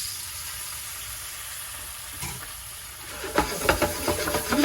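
Noodles go into browned butter in a pan, a steady hiss building to crackling sizzle with sharp pops over the last second and a half, close and fairly loud.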